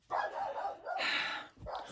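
A dog barks several times in quick succession indoors, close by and fairly loud, with a short whimpering yip near the end.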